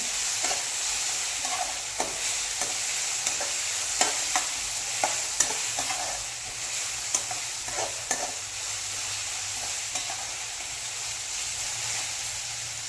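Onion frying over a high gas flame for dahi aloo sabzi: a constant crackling sizzle broken by irregular spoon taps and scrapes as it is stirred, up close, with no speech.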